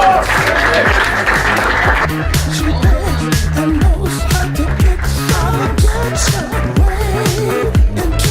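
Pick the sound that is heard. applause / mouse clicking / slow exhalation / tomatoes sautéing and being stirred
applause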